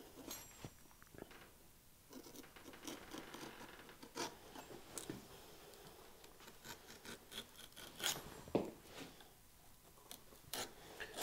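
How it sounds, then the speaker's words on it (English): Head knife scraping the rough off a saddle horn, a series of close, dry rasping strokes in irregular rhythm, fairly quiet with brief gaps between scrapes. "I've got my head knife here. I'm just gonna come and get the rough off of this."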